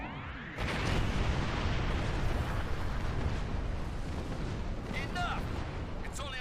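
A Doomsday Weapon fires in the Star Trek Online space game, a sudden onset of dense, continuous roaring rumble that holds steady and loud, with faint electronic chirps near the end.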